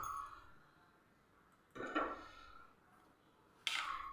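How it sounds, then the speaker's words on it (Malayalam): A pan set down on a stove with a clink, followed moments later by a second metallic knock as oil goes in for scrambled eggs, two brief separated sounds over quiet room tone. "ഇനി ഞാനിതാ പാൻ വെച്ച് കൊടുത്ത് നമുക്കൊരല്പം എണ്ണ ഒഴിച്ചു കൊടുക്കാം."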